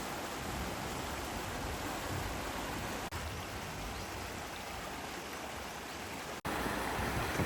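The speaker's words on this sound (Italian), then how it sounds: "posso rimanere solo al primo livello della cascata, praticamente dove arriva la cascata" Waterfall in Moalboal, Philippines, heard from its lowest level, a loud continuous rushing roar of falling water with no other sounds.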